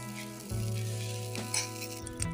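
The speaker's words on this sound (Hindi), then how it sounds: "सबसे पहले हम 2 टीस्पून बटर ऐड कर देते हैं पैन में।" Butter sizzles and fries in a pan as the first step of white sauce pasta, a steady crackling hiss with a faint clink or two of a utensil against the pan.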